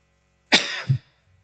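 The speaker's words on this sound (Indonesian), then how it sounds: "Itu batuk." A single short, harsh cough close to the mic, ending with a low throaty catch, surrounded by silence.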